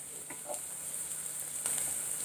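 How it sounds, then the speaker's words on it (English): Ginger garlic paste and onions fry in a pan for Rajasthani dal dhokli, giving a steady, even sizzle with a bright hiss that runs throughout. "I can smell the lovely aroma of the ginger garlic and the onions. It's frying very nicely."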